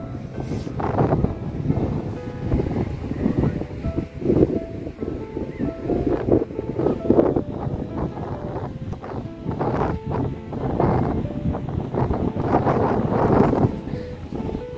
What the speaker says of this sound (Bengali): এত বাতাস, অনেক ঠান্ডা বাতাস এখানে।